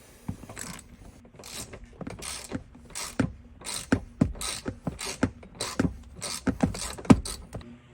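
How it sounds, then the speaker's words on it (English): Metal clicks and ratcheting from a hand tool removing the T47 seatbelt retractor bolt inside a Camaro, with a steady run of sharp, close clicks in uneven bursts and no talking. "So you have to make sure that you get this bolt out."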